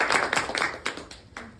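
A church congregation gives a short burst of applause, a few scattered claps rising and fading over a couple of seconds, moderately close.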